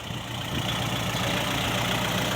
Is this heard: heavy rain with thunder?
no